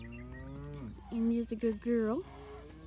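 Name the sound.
cattle mooing on a farm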